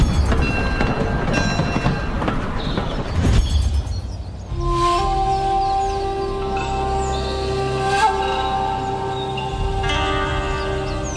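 Kiha 40 DMU diesel railcar in the Train Sim World 6 video game, with rumbling rail noise and clatter at first, then a steadier engine drone carrying sustained tonal hums and a brief sharper accent near the end.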